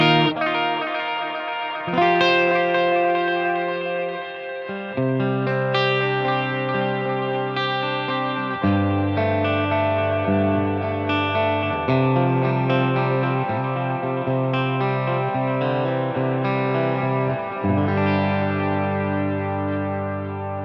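Electric guitar played through a Wampler Ethereal reverb/delay pedal with the tone control turned up, sounding as loud sustained chords and notes that change every few seconds, carrying a distorted, chorus-like shimmer and no talking.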